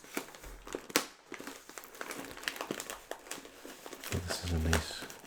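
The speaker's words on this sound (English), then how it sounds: "So this is a nice crinkly bag." A Pepperidge Farm snack bag is crinkled close up in bursts of crisp, crackling rustles, with a louder scrunch near the end and a voice talking over parts of it.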